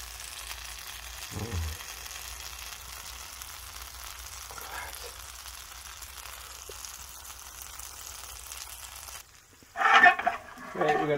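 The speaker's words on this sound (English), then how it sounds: "final turn of the sausages" Sausages fry in a pan outdoors, a soft steady sizzle with a few brief knocks, then louder clatter and bursts near the end.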